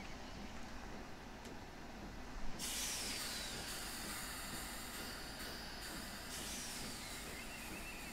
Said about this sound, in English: Gotta love the hiss of the brakes being released.